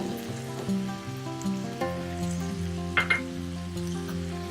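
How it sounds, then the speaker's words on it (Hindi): Black chickpeas fry in a pan with a soft, continuous sizzle and occasional light clinks of a utensil, all under gentle background music and without speech. "1 से 2 मिनट जस्ट किया है मैंने इसको फ्राई।"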